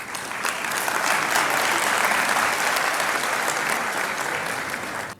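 Audience at a mushaira poetry gathering in Islamabad breaks into applause, a dense, loud burst of clapping from a crowd that swells, holds steady and cuts off after about five seconds.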